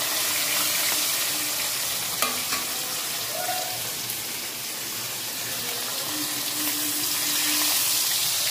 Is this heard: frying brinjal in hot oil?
yes